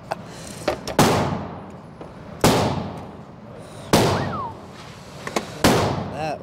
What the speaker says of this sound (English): That was the AK.